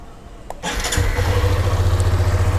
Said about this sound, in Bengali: চলো বাইকটা স্টার্ট করে দিই।